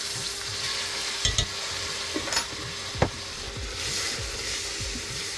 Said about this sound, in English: Once those have cooked down a little bit, what you're going to do is add 3 tablespoons of garlic to it.